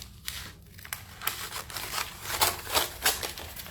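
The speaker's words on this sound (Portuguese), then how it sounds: "Agora eu vou cortar." Scissors cut through a paper sewing pattern in a quick series of crisp snips and rustles, close by and fairly loud, with no speech.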